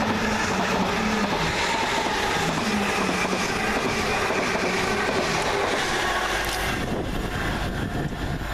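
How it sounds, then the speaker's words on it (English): Class 745 electric multiple unit 745106 on a Stansted Airport to London Liverpool Street service passes through Meridian Water station, a loud continuous rumble with wheel clatter and wind buffeting that eases slightly near the end. "is 745106, working 1 Bravo 81 from Stansted Airport to London Liverpool Street"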